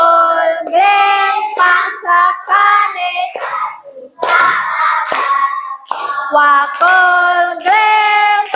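Rhythmic hand clapping keeps a steady beat beneath children singing a Javanese folk song, the sharp claps landing between the sung phrases and partly masked by the voices.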